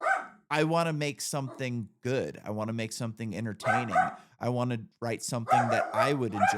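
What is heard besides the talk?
dog barking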